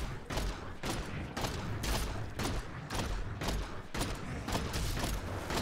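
Rapid repeated gunfire from a Demon Hunter character in Diablo 3 on PC, a dense, steady stream of sharp shots with mechanical clanks, loud and continuous with no talk over it.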